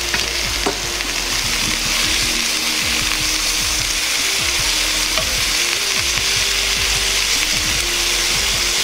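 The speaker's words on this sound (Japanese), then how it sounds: "キャベツも入れます。 しばらく炒めます。" Cabbage and other vegetables stir-fried in a frying pan, a loud continuous sizzle with dense rapid scraping and rattling of the pan and utensil throughout.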